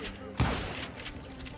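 A single loud gunshot rings out during a Wild West duel in the video game Call of Juarez: Gunslinger, with game dialogue and ambience continuing faintly around it.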